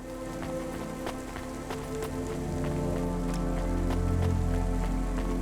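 Rain in the video game Cloudpunk falls steadily, a constant hiss of drops on surfaces layered over a low engine-like hum, with scattered sharper patters throughout.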